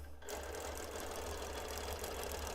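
A BERNINA Q-Matic longarm quilting system hums into motion and runs at a steady pace stitching an edge-to-edge quilt pattern, a constant mechanical whir with fast rhythmic needle pulsing, close and alone.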